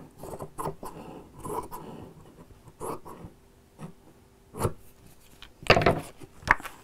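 Scissors snip through fabric while a heart-shaped pin cushion is trimmed, giving a string of short, close cuts and rustles spaced irregularly with a few sharper louder snips near the end.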